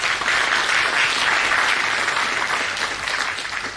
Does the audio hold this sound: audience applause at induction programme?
yes